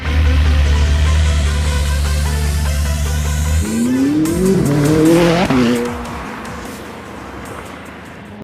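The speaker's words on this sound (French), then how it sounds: "Alors les amis, c'est parti, on est sur l'essai de la 600 LT." A McLaren 600LT sports car on a test drive, its engine droning steadily, then revving up through rising pitches with tire squeal before easing off.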